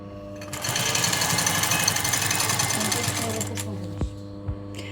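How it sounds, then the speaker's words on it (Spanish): A sewing machine stitching a trouser pocket zipper runs in a fast, even whir for about three seconds, then stops, leaving a couple of small mechanical clicks. "Y esto lo vamos a coser así."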